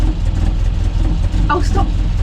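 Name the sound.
Land Rover Series 2 engine running as it is driven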